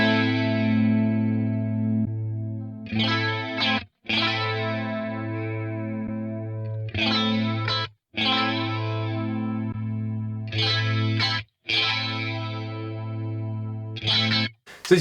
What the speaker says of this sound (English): This is the prime chorus.